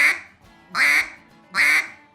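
Three loud quacks blown on a duck call, evenly spaced about 0.8 seconds apart, each short and nasal with a slight rising inflection, with no other sound between them.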